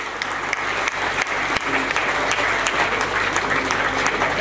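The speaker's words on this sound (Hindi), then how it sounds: "जोरदार तालियां हो जाए।" Loud, sustained applause from an audience at a yoga training camp's welcome session fills the whole stretch, steady and dense with no speech over it.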